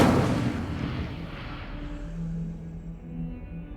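Incendio fire spell cast in the Hogwarts Legacy video game, a loud whooshing burst that fades into a rumbling, crackling roar with a low, sustained tone trailing off.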